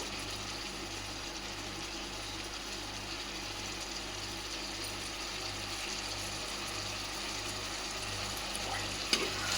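Gongura chicken curry with coriander sizzling in a pan as it is stirred, a steady low frying hiss with a faint mechanical hum beneath and a single small clink near the end.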